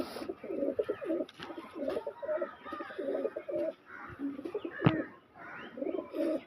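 Racing pigeons coo close by in repeated low, throaty phrases with short pauses between them, forming a steady rhythmic series.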